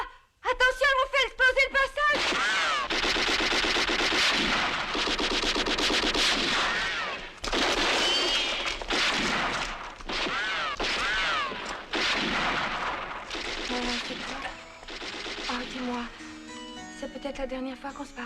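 Film action scene where an explosive blows up a cave passage amid gunfire: dense sustained roaring blasts and rapid shots fill most of the stretch, loud and close, with brief gaps and voices near the start and end.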